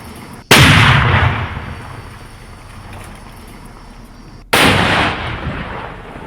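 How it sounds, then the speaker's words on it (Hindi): Two loud, sharp blasts a few seconds apart from the controlled detonation of IED bombs in Jharkhand, each booming and then rumbling away into the distance outdoors. "5 किलो का 3 आईडी और विस्फोट कर इसे नष्ट किया गया है"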